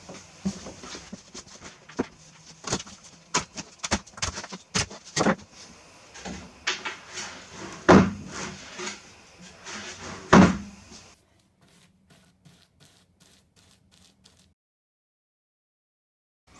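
Lid of a built-in coffee table storage box in a vintage 1974 Avion camper, opened and closed in a series of close wooden knocks and thumps over about eleven seconds, with two sharper bangs, then near silence.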